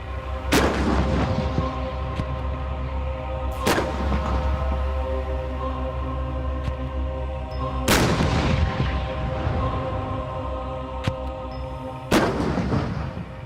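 Challenger 2 tank main gun firing on a British Army firing range: four heavy, booming blasts spaced a few seconds apart, each with a long rolling decay over a steady low rumble.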